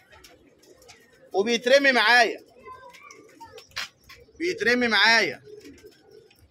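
Pigeons cooing in a loft, two long rolling coo phrases separated by a pause, close and fairly loud, with someone speaking quietly between and around them.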